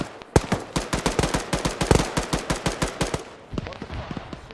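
Rapid automatic gunfire from the ArmA 3 video game, a dense run of loud, close bursts with sharp repeated cracks for about three seconds, then a few scattered shots trailing off.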